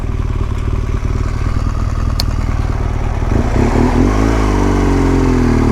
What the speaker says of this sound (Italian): Adesso mi fermo perché arriva la macchina